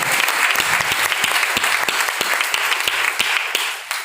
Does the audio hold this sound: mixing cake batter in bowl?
no